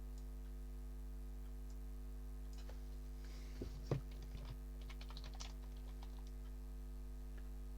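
Computer keyboard typed on in sparse, faint clicks and short bursts over a steady electrical hum, with a slightly louder cluster of keystrokes midway.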